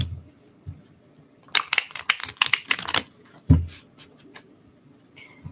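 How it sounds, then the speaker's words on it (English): Tarot cards are shuffled in quick bursts of crisp, rapid riffling clicks, with a pause between rounds; close and fairly loud, no talking. "Let me shuffle again."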